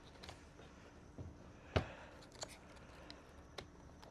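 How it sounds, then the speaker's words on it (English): A Bio Dude solar grow light fixture being snipped into place on the rails of a Kages enclosure: one sharp plastic click stands out amid a few softer taps and clicks, close and quiet. "I'm going to snip it or clip it right into place."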